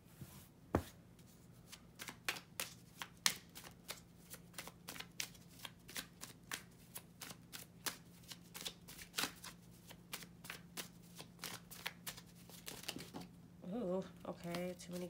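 Tarot cards shuffled by hand, a long run of crisp flicks and riffles in an uneven rhythm, close and fairly soft, with a brief spill of cards near the end and speech faint underneath.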